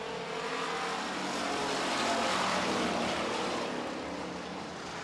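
A pack of street stock race cars roars past on an oval at the green-flag start, a broad, steady engine drone swelling slightly mid-pass and heard from some distance without talk.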